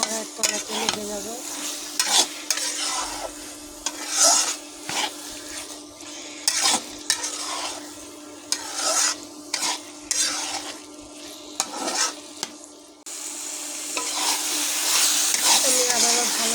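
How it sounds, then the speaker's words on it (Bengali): A hilsa head and pumpkin curry is stirred in a wok over a soft sizzle, with a spoon scraping the pan in repeated, uneven strokes close to the microphone. "তরকারি ভালো করে একটু একটু করে নেড়ে দিতে হবে, পরপর নাড়তে থাকতে হবে, নাহলে কড়াইয়ের তলাতে লেগে যাবে।"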